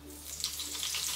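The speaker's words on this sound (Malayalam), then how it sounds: "എണ്ണ ഇവിടെ ചൂടായി വരുമ്പോഴേക്ക് ഒരു 3 തണ്ട് കറിവേപ്പിലയിലേക്ക് ഇട്ട് കൊടുക്കാം." Curry leaves sizzle and spit as they drop into hot coconut oil in an iron pan, a steady close frying hiss with a few sharper crackles and no talking.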